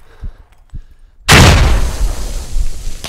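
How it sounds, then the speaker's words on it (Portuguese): A grenade detonates in a squad-based shooter game: after faint footsteps and thuds, a sudden loud boom bursts in close and rumbles into a long, noisy tail of debris. "Caraca, ele jogou uma granada."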